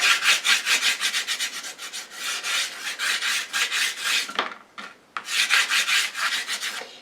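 Soft pastel sticks scraping and rasping across textured paper, a steady run of close, rhythmic gritty strokes with a brief pause near the end before the scraping resumes.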